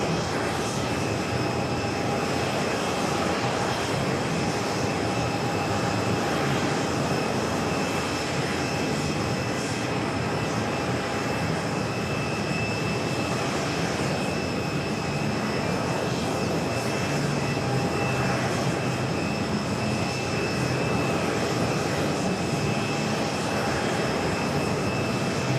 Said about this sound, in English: Let's go to the A380 Super, now short final for 4 right.